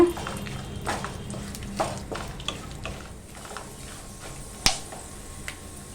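Pumpkin and melon seeds are dry-roasted with cashews and almonds in a pan, giving soft scattered clicks and ticks as they are stirred, with a few sharper taps standing out against a quiet background.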